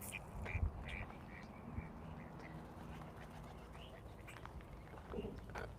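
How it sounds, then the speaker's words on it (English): Ducks quack faintly and intermittently outdoors, with soft, scattered calls over a constant low background rumble. "she loves seeing the ducks"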